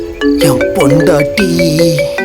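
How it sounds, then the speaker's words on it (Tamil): A mobile phone ringtone plays a bright repeating melodic tune, loud and close, while someone speaks over it briefly. "ஃபோன் அடிக்குது பாத்தியா?"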